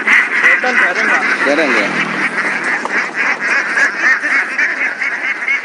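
A flock of ducks in a village quack and honk continuously at close range, with a voice talking over the busy calling.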